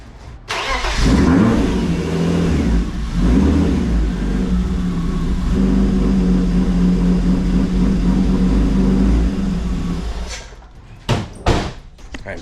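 A BMW E36 engine with an idle fault turns over and idles with a low, slightly uneven rumble, then cuts out, followed by a few sharp knocks like a door closing.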